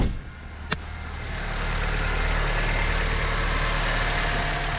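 A 2007–2012 Honda Civic engine idles steadily right after a spark plug change, a smooth, even low rumble that settles in after a brief click near the start and holds constant to the end.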